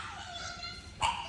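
A shop dog in a workshop during a Ram 1500 exhaust install gives a single short yip or bark near the end, over a faint background hum.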